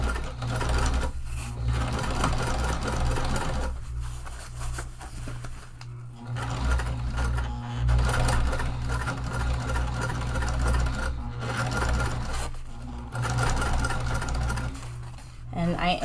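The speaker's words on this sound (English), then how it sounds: "So I'm adjusting to my top stitching length, and I am just going to start sewing." A sewing machine topstitching a tote bag with double-sided tape under the fabric, running in several bursts of rapid mechanical stitching with short pauses between, while someone talks over it.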